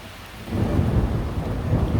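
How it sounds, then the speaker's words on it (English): A severe thunderstorm rolls deep thunder over heavy rain; a low rumble swells after a quieter start and keeps grumbling under the constant downpour, with no voices. "This thunderstorm is the worst we've had in a while."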